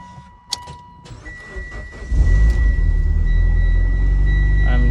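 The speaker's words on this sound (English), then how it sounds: "Let's start the car up." A Mitsubishi Lancer Evolution X cranks briefly and then fires into a loud, steady idle nearby, after a few faint clicks and a high electronic whine from the dashboard.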